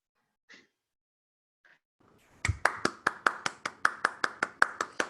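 Audience claps for a poem recital at a bardic showcase: a few soft isolated sounds, then a steady run of about fifteen sharp, evenly spaced claps, close and fairly loud, with no talk over them.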